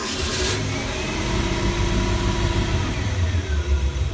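A 22-foot Shamrock boat's engine turns over and fires, then idles and revs with a deep steady rumble, loud and close throughout.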